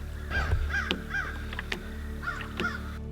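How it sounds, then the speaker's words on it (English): Crows caw repeatedly during a duck hunt, harsh calls arriving in overlapping bursts over a steady background hum, with some sharp clicks between the calls and no talking. "you have this blanket of sound from the crows"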